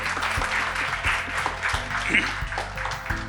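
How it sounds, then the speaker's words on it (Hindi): A crowd at an Adda247 officers' felicitation ceremony applauds in a steady, full round of clapping, with a low background tone and a brief voice partway through. "सबके लिए एक बार तालियां दोबारा बज जाए"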